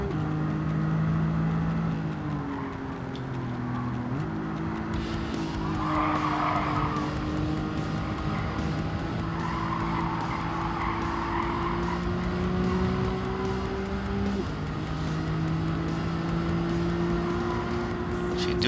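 Racing engines in Gran Turismo 7 roar continuously with rising pitch sweeps and abrupt drops as gears shift, plus bursts of tire skid noise; loud and steady throughout.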